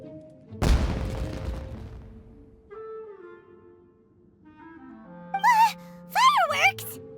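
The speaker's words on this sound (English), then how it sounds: "Was that an explosion? It sounded like fireworks." Fireworks explosions in the video game Genshin Impact: one loud booming burst with a rumbling decay, followed by quieter tones and then excited character voices speaking over the game's ambient music.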